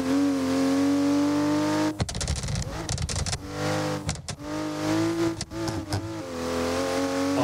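A BMW M340i accelerates at full throttle, its engine note climbing steadily as a strong harmonic drone, broken by a rough, noisy shift-like stretch before the rising pull continues, heard from inside the car.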